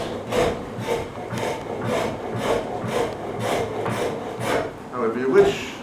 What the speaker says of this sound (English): when it's turning towards you, you use the chisel to shape it